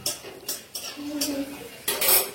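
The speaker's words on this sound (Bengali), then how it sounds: "বাদাম ভাজা শুরু হয়ে গেছে" Peanuts roasting in a pan are stirred with a metal utensil, giving several close, quick scraping clanks in an uneven rhythm.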